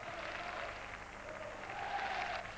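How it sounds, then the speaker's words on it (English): A football crowd on packed terraces at a 1986/87 Arsenal v Charlton Athletic match applauds, a faint, distant, steady patter of many hands with a soft murmur of voices beneath. "getting a round of applause from the packed terraces"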